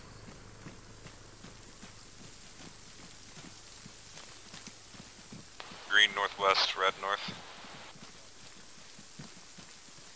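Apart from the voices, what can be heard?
rain in a military video game (ShackTac)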